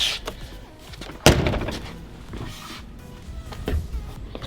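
A single solid thunk as the door of an old Nissan Skyline Hakosuka is shut but does not fully latch, heard close up against quiet background rustling.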